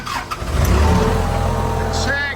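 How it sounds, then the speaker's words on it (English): A heavy-duty forklift engine cranks briefly, catches and settles into a loud, steady low idle close by, with a voice speaking over the running engine. "look at that engine right there. That thing is super clean and it cranks right up."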